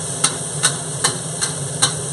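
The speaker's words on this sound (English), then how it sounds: "stir frying, and I don't know if you can see, but there's absolutely nothing sticking to this wok" Kung Pao chicken stir-fries in a wok, with a constant sizzling hiss punctuated by five evenly spaced sharp scrapes or tosses, close and clear, with no talking.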